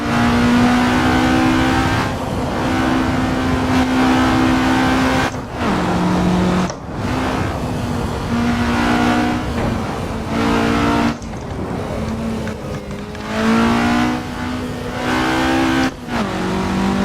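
Renault ground-effect Formula car racing at Monaco in Assetto Corsa, a loud, high-revving engine rising through the gears with brief drops at each shift, running steadily up close.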